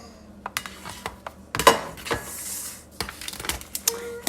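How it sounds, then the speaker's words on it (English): Vegan pot pie filling of vegetables and potatoes, lifted off the heat and scooped into a pie crust, comes with irregular clinks and scrapes of a utensil on a pot and dish, plus soft thuds, close and fairly quiet. "I'm gonna go ahead and take it off the heat and put it in our pie crust."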